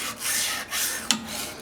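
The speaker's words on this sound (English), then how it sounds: "I've just been doing a little bit of hand sanding, just using the curve of the belt backwards and forwards like this" Steady hand sanding of a curved steel razor blade against a 400 grit belt, a close, even abrasive rasp moving back and forth in strokes with a brief sharper scrape near the end.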